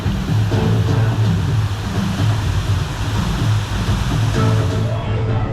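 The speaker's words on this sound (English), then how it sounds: "Waterfalls are back on, looking fantastic" Waterfalls cascade at a theme park river rapids ride, a loud, steady roar of rushing water that stays close and constant throughout, with a possible faint voice underneath.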